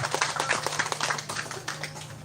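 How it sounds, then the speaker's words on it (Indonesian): Scattered clapping from an audience at a village community gathering, a light irregular patter of hands with a low steady hum underneath, moderately quiet and brief. "tepuk tangan untuk Mas Boy"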